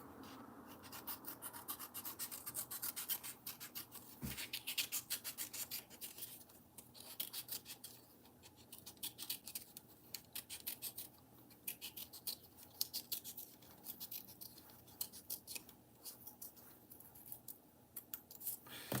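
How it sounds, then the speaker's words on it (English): Scissors snipping and rasping through paper, a steady run of close, dry scratchy cuts lasting throughout with no talk. "You know what? I have a scissors."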